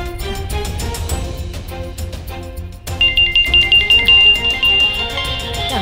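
A telephone rings loudly in a domestic drama scene, its electronic ringtone repeating in a quick even pulse over a background music bed and growing more insistent midway through.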